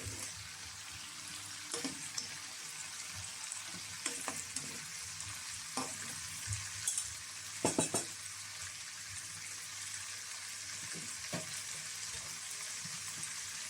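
Prawns fry in hot oil with a steady, close sizzle, punctuated by occasional clicks and stirring knocks, and no voices over it.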